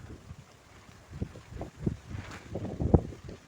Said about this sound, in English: we've got a bit of wind